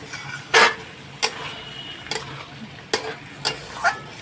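Masala sautéing in oil for a jackfruit and prawn curry gives a low sizzle. Several distinct scraping and clattering strokes of a spoon against the pan cut through it, spaced about every half second to second, with no voices.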